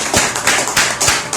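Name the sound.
congregation clapping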